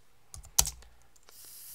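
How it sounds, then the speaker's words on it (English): Computer keyboard keys click a few times close by, soft isolated taps with one sharper key press, followed by faint steady background hiss. "if you hear clicking in the background, it's because I'm uploading the Chris Reacts to the Feminazis one"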